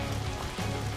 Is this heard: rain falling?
yes